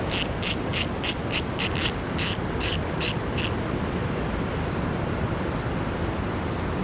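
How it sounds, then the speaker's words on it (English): An Allen wrench is turned in quick ratcheting clicks, about ten in a row, while removing bolts from a brake pedal plate for a Demco Air Force One flat tow brake system. A steady broadband rushing noise runs underneath throughout. "Allen wrench, you're going to remove these 2 bolts."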